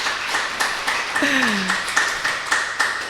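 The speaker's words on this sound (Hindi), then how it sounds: "तो बजाएंगे ताली" Children in a classroom clap their hands in a steady, regular rhythm, the claps coming at about three per second and sounding close, while a voice speaks briefly over the middle of the clapping.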